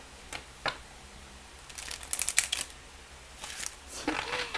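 A thin, bendy oracle card deck is shuffled by hand in short bursts of papery flicks and riffles, close and fairly quiet, with pauses between.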